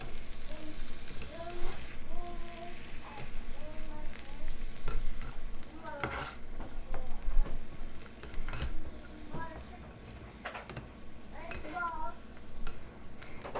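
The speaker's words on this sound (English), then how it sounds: "you can add your fiddleheads. And then you just fry them for another minute or so" Blanched fiddleheads frying in oil with onion and garlic in a pan, a soft sizzle with occasional stirring clicks and scrapes, mostly quiet.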